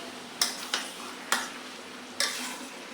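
Chicken meat frying in a pan with browned onions in a village kitchen: a faint, steady sizzle broken by four sharp stirring scrapes spaced unevenly, with no voices.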